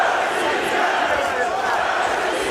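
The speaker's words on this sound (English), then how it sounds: "Moscow crowd fully behind Alexander ШЛЕМЕНКО now" At an MMA fight in Moscow, the arena crowd roars a loud, continuous, rolling cheer of massed voices that stays strong without a break.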